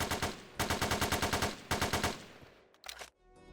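Automatic gunfire in a first-person shooter test game made in s&box rattles out in loud, rapid bursts with brief pauses between them, then trails into a lone short burst and fading echoes.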